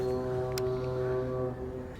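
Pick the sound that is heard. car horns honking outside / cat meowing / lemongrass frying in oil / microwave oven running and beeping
car horns honking outside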